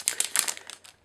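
A Cardfight Vanguard Extra Booster pack's foil wrapper crinkles as it is cut open, a quick run of close, bright rustling snips that fades over about a second.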